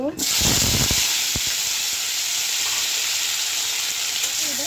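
Vegetables dropped into hot oil tempered with bay leaf and cumin seeds sizzle loudly and steadily, a dense continuous frying hiss with a few stirring knocks near the start, close and without talk.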